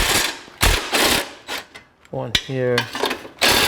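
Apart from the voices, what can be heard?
removing screws from a 2015 Subaru Forester exhaust midpipe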